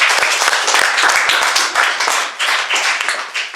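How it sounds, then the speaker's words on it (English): Lively applause and clapping from a showcase audience, dense and continuous with a few sharper individual claps standing out, moderately loud and close. "give him a round of applause"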